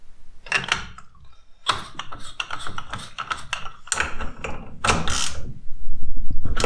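A motorcycle suspension part, a Bitubo unit, is tightened by hand, producing dense rapid ratcheting clicks and metallic mechanism noise up close, in several loud bursts.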